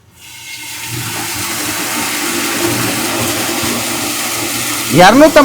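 A 1.5 HP borewell motor pumps water from 250 feet deep during a pressure test, a steady rushing, gushing flow that builds up quickly and holds, with a brief louder surge near the end.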